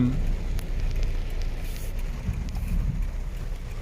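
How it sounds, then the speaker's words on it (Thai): Strong floodwater pours down a street in Khon Kaen during heavy rain, a steady loud rushing roar with rain and wind buffeting the microphone throughout. "นี่น้ำที่ไหลมาจากด้านบนนั้น โอ้ ตรงนี้ไหลมาแรงมากเลยนะครับ"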